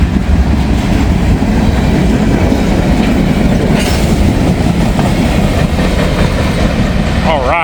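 A ballast train rolls past on the rails close by, a loud continuous rumble with rhythmic clickety-clack from the wheels and a brief squeal near the end.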